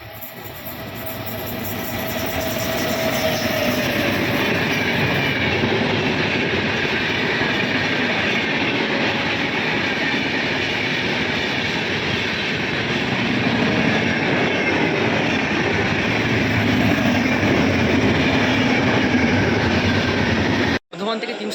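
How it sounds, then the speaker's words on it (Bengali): A passenger train leaves Madhupur Junction in Jharkhand with a loud continuous rumble of wheels on rails and rhythmic clatter, steady from inside the coach, with voices faint underneath. "আমাদের ট্রেন এই মুহূর্তে ছেড়ে দিল মধুপুর জংশন।"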